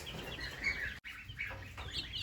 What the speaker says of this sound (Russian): сейчас я вам покажу цыпляточек своих